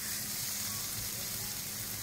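Spice paste with a splash of water sizzles steadily in a hot frying pan, a close, even hiss with no pauses and no talking.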